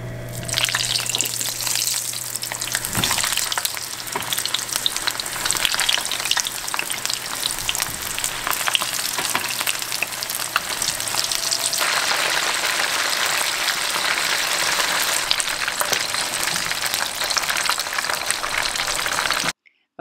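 Eggplants deep frying in hot oil give a steady, loud, dense sizzle and crackle that runs unbroken for about twenty seconds before cutting off abruptly.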